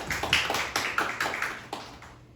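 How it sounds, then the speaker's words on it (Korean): A church congregation claps in praise during a Sunday worship service, a light, patchy patter of hands in quick irregular bursts, fairly faint and fading toward the end. "하나님께 박수로 영광 돌립니다"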